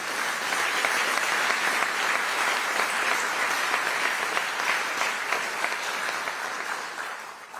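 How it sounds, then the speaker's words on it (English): A round of applause from the audience at a State of the City address, broad continuous clapping that holds steady and then gradually thins and fades toward the end. "Let's recognize the hard work of the Finance Department with a round of applause."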